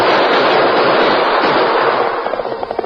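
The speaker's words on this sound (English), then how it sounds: "With a final burst of gunfire and with ear-splitting whoops, they fled over the prairie" A loud, dense burst of gunfire roars continuously, then breaks into a few separate sharp shots at the end.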